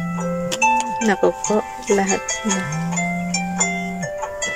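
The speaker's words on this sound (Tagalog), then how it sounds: "Pagka ganyan ang tunog guys, alarm clock yan." A melodic alarm clock ringtone plays a bright repeating tune of sustained electronic tones, close and fairly loud, while a person talks over it.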